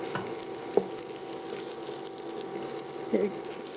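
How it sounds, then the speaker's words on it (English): Lomo saltado ingredients frying in a pan: a steady, fairly quiet sizzle throughout, broken by a couple of brief clicks and clatters, close by. "Let's fry this a little bit until"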